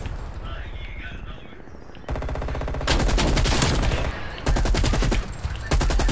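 Gunfire in Black Ops Cold War, loud rapid automatic bursts in rhythmic strings with short gaps between them, close and dominant, with brief talk over the game sound.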